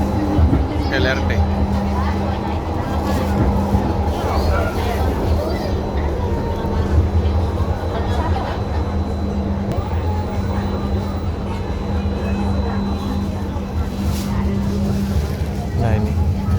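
Palembang's LRT light rail train runs from Sultan Mahmud Badaruddin II airport. A steady low rumble of the moving carriage and a faint whine continue throughout, while a person talks over the ride.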